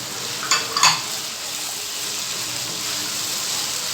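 Chopped onion and capsicum fry with minced keema in a hot pan, giving a loud, steady sizzle close by. A few sharp clinks of a stirring spoon come early on, and no one speaks.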